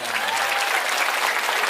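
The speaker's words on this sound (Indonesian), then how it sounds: "tepuk tangan pendeta Gilbert." Applause from an audience at a sermon event welcoming a pastor, a dense, steady clapping texture filling the whole moment with faint crowd murmur beneath.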